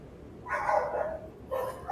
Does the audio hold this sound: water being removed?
no